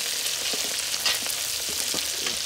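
Dal roasting and being stirred in a pan, a dense steady sizzle with scraping stir strokes throughout, close and fairly loud with no talking.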